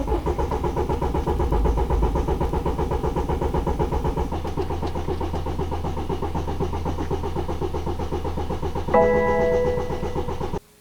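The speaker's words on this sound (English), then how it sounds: "let's go ahead and start the car." A BMW F31 3 Series engine cranks with a rhythmic chugging for several seconds, then catches and settles into a steady idle before cutting off.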